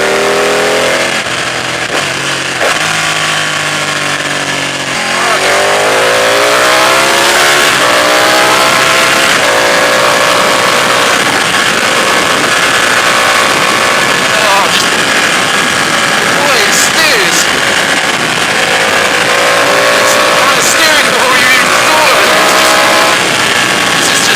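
Ducati 899 Panigale motorcycle engine pulling hard through the gears with a quick shifter, loud and close, with rising revs, brief upshift blips and continuous wind rush over a sustained 24 seconds.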